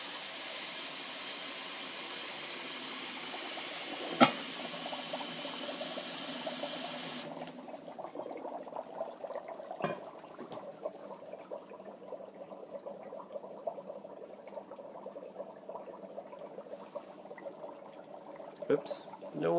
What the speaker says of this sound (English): This time we're going to add the hottest water we can get